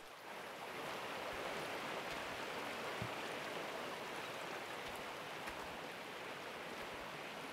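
Water pours steadily into a bucket during setup in Gold Rush: The Game, a continuous broadband splashing rush that holds at an even, soft level throughout.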